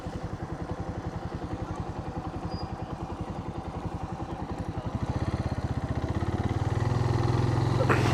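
A Suzuki motorcycle idles and then pulls away on a city street downtown at night, its engine thumping in a steady close pulse before rising into a smoother, louder drone, with no talking.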